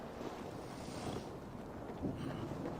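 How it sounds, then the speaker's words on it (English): Wind blows steadily in the video game Assassin's Creed Valhalla, a broad, rough gusting rush with a slight swell partway through and no voices. "Windy."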